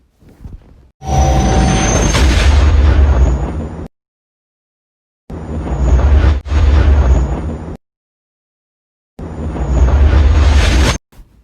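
Sonified radio signal of the Crab Pulsar, a young pulsar born from a supernova, heard as loud, harsh bursts of noise about two to three seconds long, separated by abrupt silences, with a sharp click inside the second burst.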